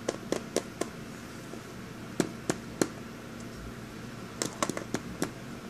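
A hollow rubber toy figure tapped with a finger, giving sharp, dull knocks in small clusters, some single and some in quick runs of two or three, over a quiet room background.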